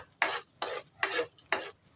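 Sliced ingredients being stirred in a hot pan for lugaw, four distinct scraping strokes in an even rhythm, close and fairly quiet with a faint sizzle underneath.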